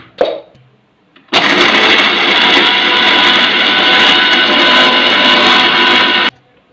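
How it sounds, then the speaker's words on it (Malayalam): Electric mixer grinder powdering Marie Gold biscuits: a loud, steady motor whir and grinding roar running for about five seconds after a brief handling knock, then cutting off abruptly. "നമുക്ക് മിക്സിയുടെ ഇതിട്ടൊന്ന് പൊടിച്ചെടുക്കാം"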